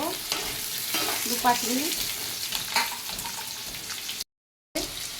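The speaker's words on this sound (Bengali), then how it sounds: "এবার আমি বাকি এই যে পটলগুলো দিয়ে দিচ্ছি, পটলগুলো একটু ভেজে নেব" Pointed gourd pieces fry in a pan with a dense, close sizzle and scraping stirs, a brief gap of silence near the end, and a short spoken phrase over it.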